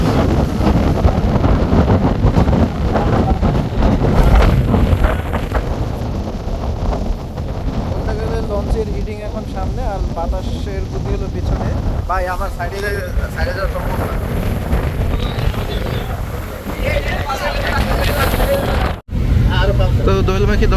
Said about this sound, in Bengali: আপনার দেখতেই পাচ্ছেন নদীতে কি পরিমাণ ঢেউ আর বাতাস